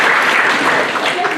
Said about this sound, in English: Can you give him a round of applause?